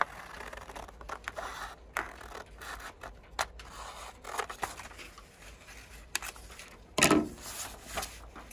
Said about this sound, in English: And with the dart still folded, I cut the seam allowance.